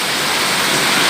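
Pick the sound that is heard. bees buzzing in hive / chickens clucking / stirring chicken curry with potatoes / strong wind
strong wind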